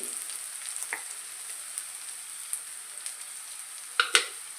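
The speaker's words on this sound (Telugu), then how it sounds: "ఉల్లిపాయలు బాగా వేగిపోయాయండి" Onions fry quietly in a pan, a faint steady sizzle scattered with small crackles and a couple of sharper pops near the end.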